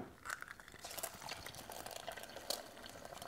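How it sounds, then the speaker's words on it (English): An egg frying in oil on the non-stick surface of a small NuNet travel cooker, a quiet bubbling sizzle with scattered light pops and ticks, soft and close, with no talking. "Let's try and fry an egg."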